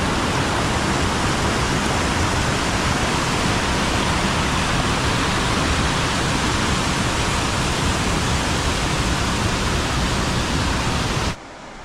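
A river rushes through a forest in Puerto Rico, a loud, constant roar of flowing water that holds steady and unbroken before dropping away at the very end.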